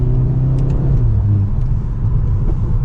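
A 2023 Mercedes-Benz C43 AMG 4MATIC sedan with a four-cylinder engine accelerates on the road, giving a steady, loud, close engine rumble and whir with no voices.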